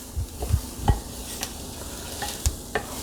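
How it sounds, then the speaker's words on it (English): Risotto rice is stirred in a pot as it toasts toward golden, giving a soft steady sizzle broken by irregular scraping strokes and faint knocks of the spoon, close and without speech. "And then we're going to stir this all together for about 3 minutes until it gets a nice golden color."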